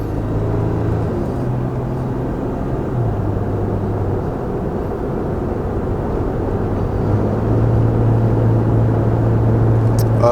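Third-generation Toyota Tacoma pickup with an OVTune engine tune speeding up on a road test drive, a steady low engine drone and road rumble heard from inside the cab, rising slightly in loudness toward the end.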